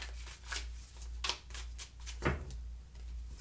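Soft riffling bursts of a deck being shuffled, several quick passes in a row, quiet and close with no talking.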